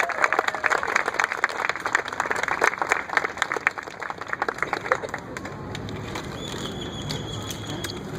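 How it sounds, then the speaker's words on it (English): Audience applause welcoming Representative Heather Carter to the stage at a Diabetes Day gathering at the Capitol, dense steady clapping from a crowd that thins out and fades over several seconds. "allow me to clap again to bring Representative Heather Carter to the stage."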